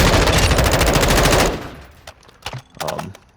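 M4 rifle fire in Call of Duty DMZ: a loud, sustained automatic burst with rapid, evenly spaced shots, then a few scattered, quieter shots and trailing noises.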